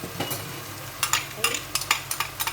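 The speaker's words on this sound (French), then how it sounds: "شوفوا كي تقلى مليح البصل مع اللحم" Onion and ground meat fry in a pan for spaghetti bolognese, giving a steady sizzle under repeated scraping and stirring with a utensil, close up, with no talking.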